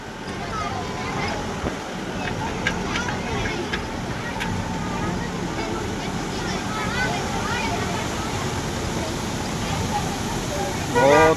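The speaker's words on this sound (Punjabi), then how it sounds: "ਸਪੀਡ ਨਾਲ ਪਾਣੀ ਡਿੱਗ ਰਿਹਾ" Water rushes fast through a traditional water mill at Babbanpur, a constant broadband roar filling the clip while people talk over it.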